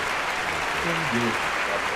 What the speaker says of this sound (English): I'm playing the applause sound effect.